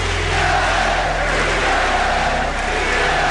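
A Boston basketball crowd in an arena fills the space with a loud, ceaseless roar and a rhythmic pounding chant, a dense wall of voices that runs without a break.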